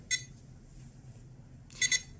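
AT9S Pro RC transmitter powering on, giving a short electronic beep followed later by a quick pair of beeps, clear and close over a faint background hum.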